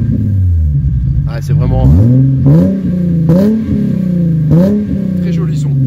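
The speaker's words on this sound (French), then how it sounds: "Petit démarrage. Petit coup de gaz." A Nissan 350Z's 3.5-litre engine cranks and catches, then gets several short throttle blips that rise and fall in pitch, loud and close, with someone speaking over it.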